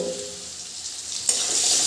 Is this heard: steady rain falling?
no